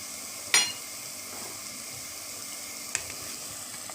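Small shallots sautéing in a pan for mushroom biryani, a faint continuous sizzle with a sharp utensil clank early on and a lighter tap later.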